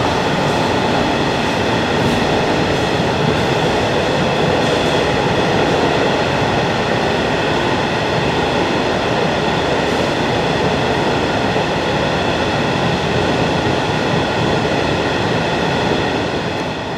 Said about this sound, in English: oh, we think we have a train. We have a train going over.